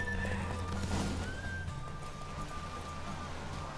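Roach, a horse in The Witcher 3 video game, lets out a clear neigh with hoofbeats clopping beneath it, over a steady low game soundtrack during a horse race.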